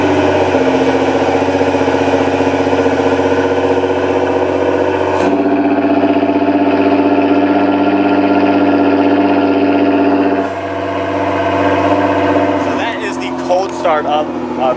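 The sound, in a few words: Nissan GT-R R35 with Armytrix decat straight pipes idling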